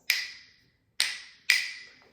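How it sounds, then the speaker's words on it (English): Pine wooden dowels used as rhythm sticks are struck together three times, giving sharp, close, ringing clicks with short decays, the second and third hits closer together. "This is the sound of the dowels."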